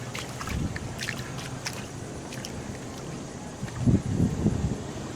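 Pool water from a closing pool being drained out onto a lawn near a rock garden, a soft continuous rushing and trickling flow with faint splashing, no talk.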